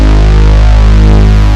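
The HS Hero guitar preset on the Tyrell synth, pitched down into a bass register, holds one loud, thick, buzzing sustained tone with a steady distorted drone and no other sounds.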